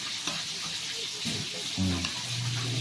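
Fish frying in hot oil, a close, continuous sizzle and crackle with some stirring, and a voice briefly heard under it near the end.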